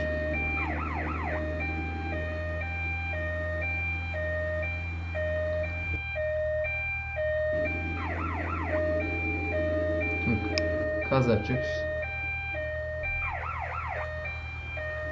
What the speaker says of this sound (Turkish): Ambulansla gidiyoruz.